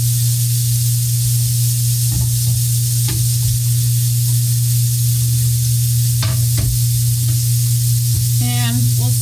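Portobello mushrooms cooking over high heat in a heavy skillet: a continuous loud sizzle under a steady low hum, broken by a few sharp clatters and knocks, close by, no speech.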